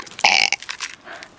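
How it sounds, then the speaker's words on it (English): A loud, close burp in one sustained croak lasting about a third of a second, followed by faint breathy noises and soft murmurs. "I burped."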